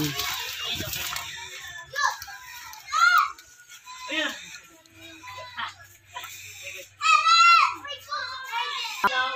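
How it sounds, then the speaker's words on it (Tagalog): Neighbours' children play noisily nearby, their high shouts and squeals coming in bursts while an adult talks over the racket. "ang ingay talaga ng mga kapitbahay ko guys, lalong-lalo na ang mga bata"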